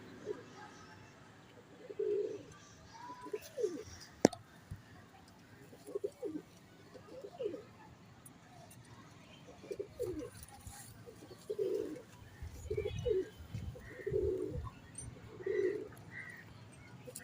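Pigeons in a loft box coo in a steady series of soft, low, rounded calls spaced a second or two apart, close by, with faint background rustling and a brief sharp knock partway through.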